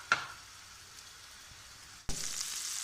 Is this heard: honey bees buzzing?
no